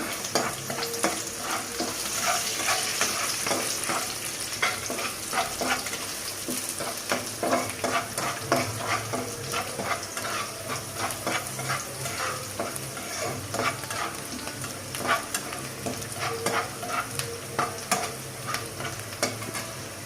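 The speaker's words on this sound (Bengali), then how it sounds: "একটা তেজপাতা টুকরো করে দিয়ে দিলাম, জিরা আর মেথি দিয়ে দিলাম" Bay leaf pieces, cumin and fenugreek seeds sizzling in hot oil in a pan, a continuous close crackle with frequent stirring scrapes throughout.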